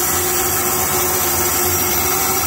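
A 2011 Amada HFA250-W band saw running and cutting with a new blade, a loud steady mechanical hum and whine with a constant motor drone, close and unbroken.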